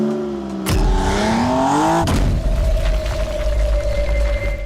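Jaguar XJ220 supercar with a race-derived engine revs hard, pitch climbing sharply before a sudden drop into a loud, rough, steady roar close by, with no talking.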